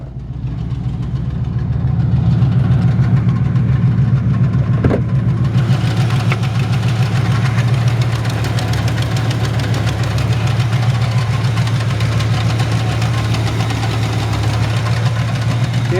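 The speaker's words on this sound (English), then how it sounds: "It does have a little exhaust leak." A 1966 Chevrolet C10 shortbed truck with a mild cam idles up close, loud and steady with a choppy, loping rumble and a ticking, puffing exhaust leak beating through it, with no talk.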